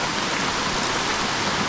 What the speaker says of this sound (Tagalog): Yan na, tumudo ng ulan.